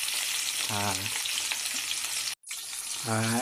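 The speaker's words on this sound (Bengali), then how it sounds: "এখন হয়ে গেছে মাছ ভাজি" Rohu fish fries in a pan with a steady, dense sizzle that runs almost unbroken, apart from a brief cut near the end, and there is no talking over it.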